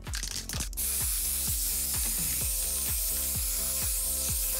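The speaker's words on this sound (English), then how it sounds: "What? Hairspray me." Aerosol hairspray sprays in a steady loud hiss throughout, applied while making up a zombie costume, with a faint rhythmic rattling pulse running under it and a brief clatter at the start.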